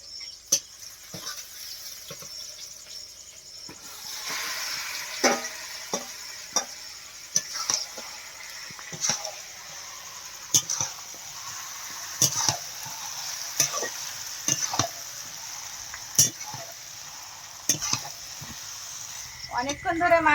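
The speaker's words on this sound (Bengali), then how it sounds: "এবার মাংস কড়াই দিয়ে দিচ্ছি" Spiced country chicken sizzling and frying in a kadai over heat, a soft steady hiss broken by repeated sharp scrapes and stirs of a spatula against the pan, close and fairly quiet.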